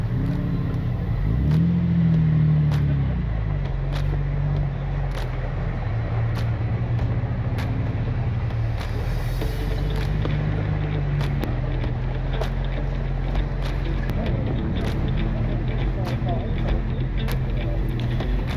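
4x4 vehicles pull away onto a trail, engines droning and shifting pitch as they roll off, with someone talking over the steady motor noise throughout.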